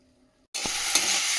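Leftover food hits a hot pan for reheating, and after a moment of near silence a loud sizzle bursts in abruptly and holds steady, with one or two light stirring knocks.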